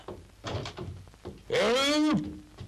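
A bedroom door in an old Turkish film swings open with a drawn-out rising creak lasting under a second, loud and close, after a stretch of muffled low room sounds.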